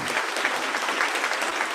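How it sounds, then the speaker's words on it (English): An elementary school audience applauds silver certificate winners at a fifth grade promotion ceremony, a dense, steady burst of many hands clapping together with no pauses. "Let's give a big round of applause to these silver certificate winners."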